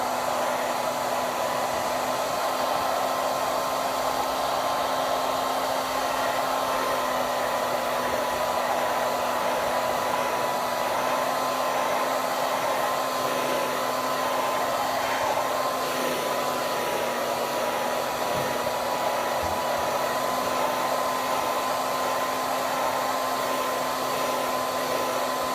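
A hot air blower runs steadily and loudly, heating the cracked screen of an Apple iPad Air 2 during a repair; the constant whooshing airflow carries a faint tonal whine and continues unbroken without any talk.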